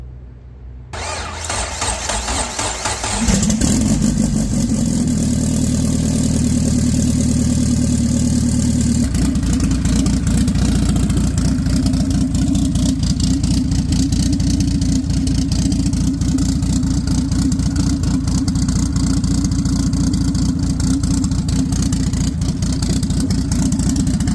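A Dodge SRT being prepped for race day, with freshly refilled coolant, cranks over, fires and settles into a loud, steady idle that rumbles on close by with no talking.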